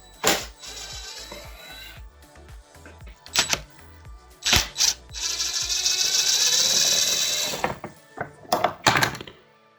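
Ratchet clicking while hex bolts are undone on a 2005–2006 Kawasaki Ninja ZX6R motorcycle during an oil change, short mechanical bursts of ratcheting and metallic thunks close up, with a longer steady run in the middle and no talking.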